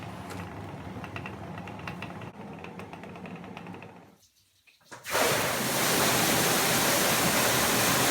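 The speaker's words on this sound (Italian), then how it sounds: "È la forza dell'acqua a dare energia alla ruota orizzontale in legno che fa muovere una macina in pietra naturale al piano superiore" Water rushes steadily through a Sicilian watermill and drives its horizontal wooden wheel. The dense roar briefly fades to near silence, then returns louder and nearer, holding constant to the end.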